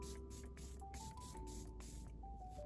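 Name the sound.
Charlotte Tilbury setting spray being sprayed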